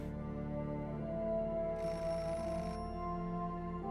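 A telephone rings in the video game Beholder, a steady electronic ring with a brighter burst partway through, moderately loud over a low droning game background, no talking.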